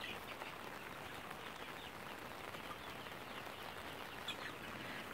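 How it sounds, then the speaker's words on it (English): Soft, steady rain patters continuously on a surface, faint and even throughout with no voices. "You guys heard rain before."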